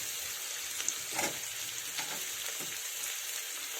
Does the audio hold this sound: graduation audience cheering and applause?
no